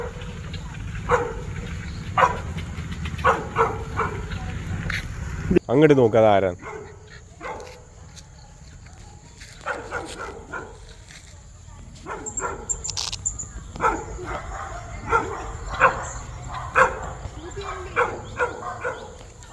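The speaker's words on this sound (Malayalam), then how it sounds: "അവിടെ വീട്ടിലൊരു പട്ടിക്കുട്ടി കുരയ്ക്കുന്നു." A pet puppy at a house yaps and barks in short repeated bursts from a little way off on a residential street, mixed with people talking nearby and brief outdoor noise.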